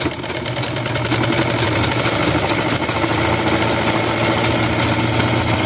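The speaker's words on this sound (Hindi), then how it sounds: "इस कट को पकड़ लिया और सिलाई लगाना शुरू कर दी।" A sewing machine runs steadily and loudly up close, stitching a simple suit, giving a continuous dense mechanical whir with no pauses.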